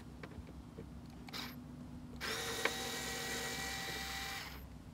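Mechanical whirring from a tool working on the screws of a Toyota 4Runner's third brake light, a steady buzzing drone starting about halfway through after quieter clicks, close and without talk.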